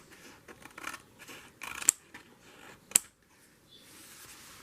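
Scissors trimming journal paper, with soft rustling, several short snips and two sharp distinct cuts, close and quiet.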